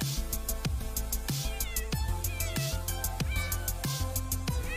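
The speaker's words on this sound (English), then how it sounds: "Sounds like my cats." A cat meowing close by, repeated meows recurring in a steady rhythm over a loud, continuous background of other sound.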